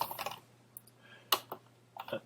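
A few quick, faint keystrokes tap on a computer keyboard as a command is typed, in two small bursts with a pause between.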